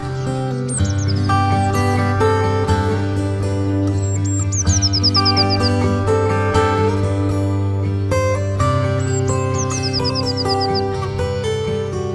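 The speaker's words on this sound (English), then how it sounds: "The robin was a frequent visitor." Robin and other small birds at a window-mounted feeder give bright, quick descending chirps that repeat a few times, fairly clear over a steady bed of sustained musical tones.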